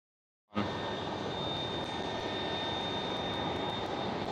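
Airbus A330 airliner at Schiphol airport, a loud steady engine roar that rises abruptly and holds at full strength, with a thin whining tone above the broadband rumble.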